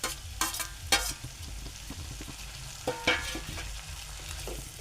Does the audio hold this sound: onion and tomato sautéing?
yes